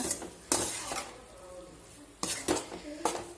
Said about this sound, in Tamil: இப்போ இதில் பாஸ்தா போட்டு இதை நல்லா மிக்ஸ் பண்ணிவிடுங்க.